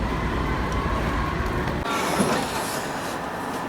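Interior of a moving Japanese train on the way to Numazu, a steady loud rumble of wheels on track with a brief squeal and shifting tone partway through.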